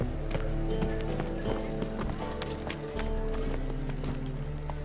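Roach, a horse in The Witcher 3: Wild Hunt, gallops with a steady run of hoof clip-clops and a brief whinny, all set against a dense game soundtrack and ambience.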